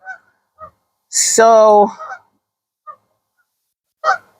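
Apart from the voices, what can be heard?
geese honking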